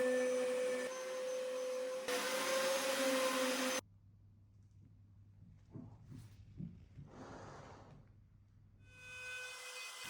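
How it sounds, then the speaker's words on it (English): A router table fitted with a hefty 1/2 inch spiral compression template bit whines loudly while rounding wooden corners, then cuts off abruptly, leaving quiet knocks and shuffling before a motor whir rises again near the end. "Now it's over to the router table, where I use a hefty 1/2 inch spiral compression template bit to round off the corners."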